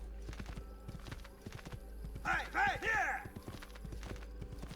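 Horse hooves clip-clopping at a quick, regular pace in Assassin's Creed 2, with a short whinny partway through, under a faint low hum.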